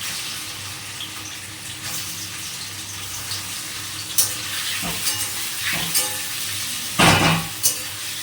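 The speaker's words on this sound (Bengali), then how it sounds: "আর এখন চলো পনিরগুলো ভেজে নিই" Paneer pieces fry in hot oil, a constant low sizzle broken by several sharp bursts and clatters as they go into the pan, close and with no voices.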